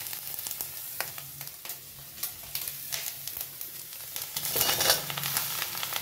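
Vegetables sizzle in hot oil with ground chili paste, a steady close frying crackle that swells louder near the end, occasionally stirred, with no voices.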